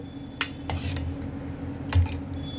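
Spoon stirring pokharo, a traditional Odisha dish, in a pot after salt is added, with a few metal scrapes and clinks against the pot over a low steady background hum.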